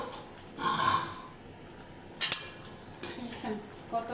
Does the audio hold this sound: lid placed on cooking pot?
yes